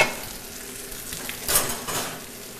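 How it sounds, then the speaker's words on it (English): Pasta stirred in a pot over heat, with a steady sizzling hiss and a few soft utensil scrapes, close and moderately loud, with no talking. "Let's stir our pasta up a little bit."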